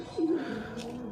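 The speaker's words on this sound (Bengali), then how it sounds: "দেখেন কত সুন্দর কবুতর" Pigeons cooing on a rooftop: one soft, close coo that swoops up and down and then trails off, over a quiet background.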